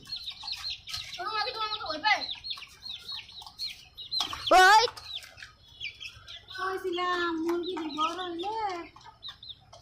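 Two backyard hens cluck and squawk close by in short bursts, with one sharp louder cry near the middle, while a person talks intermittently alongside them.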